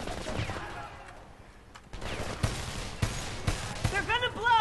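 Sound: gunfire in video game Homefront

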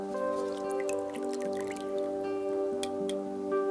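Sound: fabric dipped into warm dye pot with aniline

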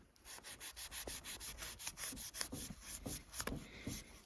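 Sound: Grand Way 027 UB knife cutting abrasive rope

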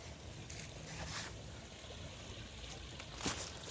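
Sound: water flowing and trickling

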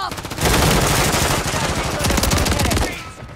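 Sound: gunfire from a video game

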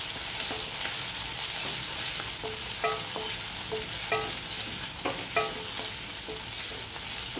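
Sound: chopped onions frying and being stirred in a pan

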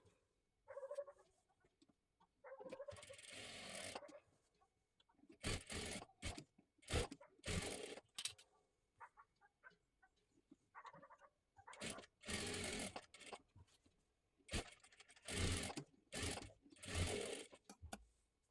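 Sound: sewing machine stitching a blouse deep neck

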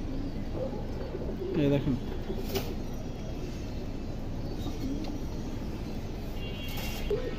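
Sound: Indian highflyer pigeons cooing

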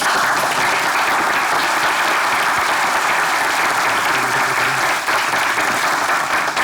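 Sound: audience applause welcoming a party chairman

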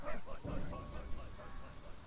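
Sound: dog barking in the video game Valiant Hearts: The Great War

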